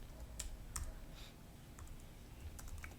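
Sparse keyboard clicks while code is typed on a computer keyboard, a few faint isolated keystrokes spread over a steady low background hum.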